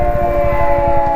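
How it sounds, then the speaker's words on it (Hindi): Close by the Aut tunnel linking the Kullu and Mandi districts on a mountain road, a loud sustained siren tone holds steady over a low rumbling background. "सायरन बज रहा है।"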